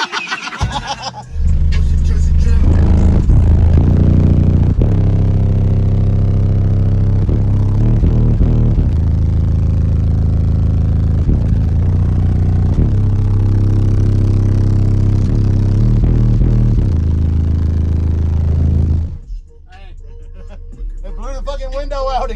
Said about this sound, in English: I'm over here mashing the gas